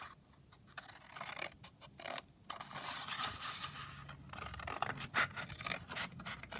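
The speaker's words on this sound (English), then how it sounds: "So I'm just going to trim that down." Scissors trimming paper for a craft slide embellishment, heard as a series of short snipping and rubbing cuts in close, quiet bursts with brief pauses between them.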